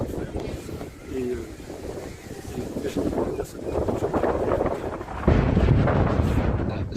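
Outdoor wind buffeting the microphone, a steady rumbling roar that surges in gusts and grows heavier near the end.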